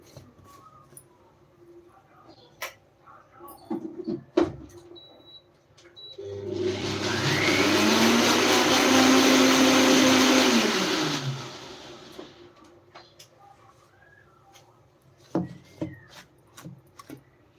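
A kitchen mixer grinder runs for about five seconds, a loud close whirring roar that rises, holds steady and winds down, with faint household clatter before and after.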